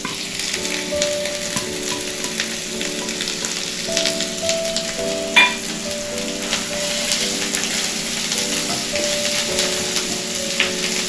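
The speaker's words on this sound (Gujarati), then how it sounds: "આપણે આ જે લસણ અને મરચાંની પેસ્ટ બનાવી છે ને એને સાંતળી લઈએ" Garlic and green chili paste sautéing in a pan over low heat with asafoetida for stuffed millet flatbread, a steady close sizzle and crackle like light rain, with one brief clink partway through and no talk.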